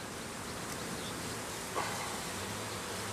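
Honey bees buzzing as they are hived from a box, a soft, steady swarm drone that holds evenly throughout at low volume.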